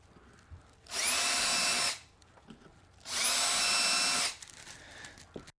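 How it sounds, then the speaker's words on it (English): Two bursts of a power drill whirring with a 1/16 inch bit, pre-drilling servo mounting holes in a 50cc RC plane, each about a second long, separated by a short pause, close and loud against a quiet background. "we're going to pre-drill each of these holes using a"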